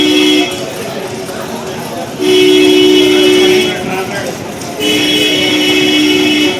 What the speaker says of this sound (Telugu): అది ట్రామ్.